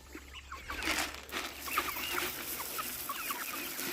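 Young, growing chickens cluck softly and chatter close by, with scattered short calls over a light background patter.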